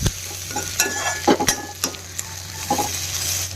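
Onions fry for an Assamese pork curry, a loud close sizzle with uneven scraping and clattering as a spoon stirs the pan, no voices.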